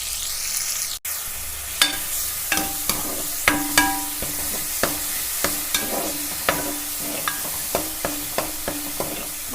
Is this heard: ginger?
yes